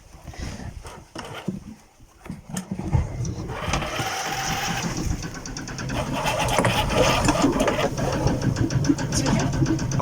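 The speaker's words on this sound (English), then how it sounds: "So we're gonna start the engine." A sailboat's inboard engine cranks and catches, then settles into a steady, close, rumbling run that grows louder and continuous after a rough, uneven start.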